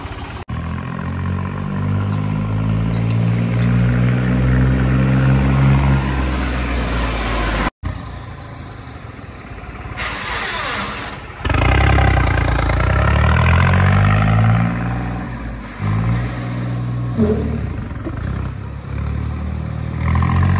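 A tractor engine idles and revs loudly during a failed attempt to lift the tractor in a stunt, the note rising and falling with clattering, a sharp break midway, and no voices.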